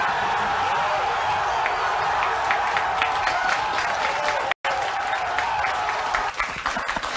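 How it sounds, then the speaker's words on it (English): A television studio audience applauds in a sustained wave of clapping that drops out for an instant before resuming. "They're applauding that"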